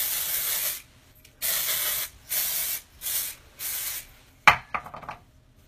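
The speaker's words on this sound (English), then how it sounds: "So you can spray it in, and it's like a dry texture spray" Matrix Texture Builder dry texture spray is sprayed into hair in five close, loud hissing bursts separated by short pauses, followed by a few brief rustling and scrunching sounds.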